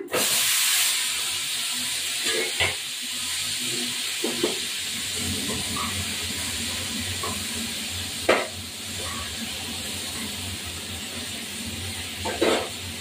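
Nigella seeds, green chili, papaya and ridge gourd fry in a pan with a steady, close sizzling hiss, broken by a few clinks of a utensil stirring against the pan.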